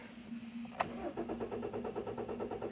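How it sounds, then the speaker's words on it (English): A car with a suspected faulty GDI high-pressure fuel pump cranks for a long, steady rhythmic stretch after a sharp click, the starter churning evenly up close with no talk over it. "we are going to start the car"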